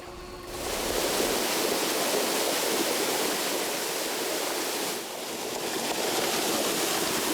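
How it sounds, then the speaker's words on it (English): Whitewood Creek rushing steadily below a water treatment plant, a dense broadband wash of flowing water that stays loud and even throughout, with a brief slight dip midway and no voices. "Every day, 4 million gallons of clean water pours out of the treatment plant and into the Whitewood Creek."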